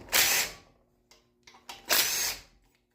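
A power tool whirs in two loud bursts with short taps between them while removing the flywheel bolts on a Briggs and Stratton flathead go-kart engine, close and clear with no talking.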